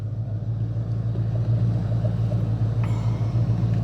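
A 1989 Ford Mustang LX with a 5.0 V8 idles right after starting, a low, steady, loud rumble close by with a slight lope throughout.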